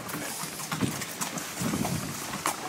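A foal's hooves clip-clop in a steady uneven rhythm on an outdoor farm, moderately close, over a busy background hiss with no talking.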